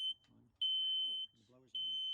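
A boat engine's fume detector alarm sounds in loud, sustained high-pitched beeps, three long tones separated by short gaps, with a voice speaking between them.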